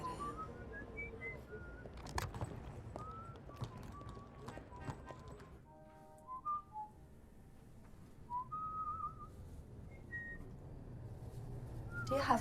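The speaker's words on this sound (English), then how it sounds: "Do you have to do that? Do what? Whistle." A person whistles a wandering tune in short melodic phrases, with hoof-like clopping and background noise underneath.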